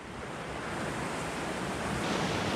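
Waves on a rocky beach roll in as a broad, steady roar of surf that swells slightly louder, with some wind in the background and no voices.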